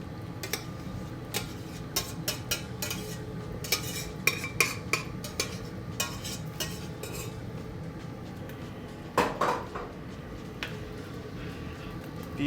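A spoon stirs leek into cauliflower soup in a metal pot, giving a series of close, irregular clinks and scrapes against the pot, with a louder clatter near the end and no talk.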